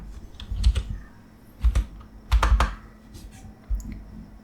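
Close, clattering keystrokes on a computer keyboard come in short bursts separated by pauses while a file is set up in the Samsung Odin flash tool. No voices are heard.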